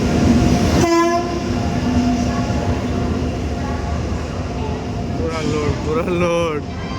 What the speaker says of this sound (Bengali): সো গাইস ট্রেন চলে এসছে আমাদের আজকে এখন